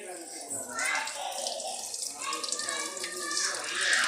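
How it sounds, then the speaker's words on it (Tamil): Tap water runs steadily over squid being washed, a continuous close splashing and gushing stream that lasts the whole stretch. "கடம்பா வாஷ் பண்ணுறது பெரிய ப்ராசஸ்."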